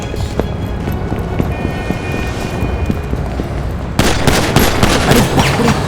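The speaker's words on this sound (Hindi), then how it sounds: "ये तो गोली चला रहा है" Gunfire in a GTA 5 gameplay scene, sharp scattered shots over a constant windy, engine-like rumble that suddenly grows louder and denser with a burst of rapid fire near the end. No one speaks.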